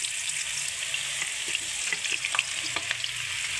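Spiced okra drops into very hot oil in a pan and hisses loudly and steadily. Faint pops and crackles rise over the even sizzle.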